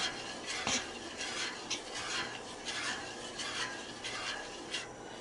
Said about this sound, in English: your arm gets tired after a while of stirring the cheese together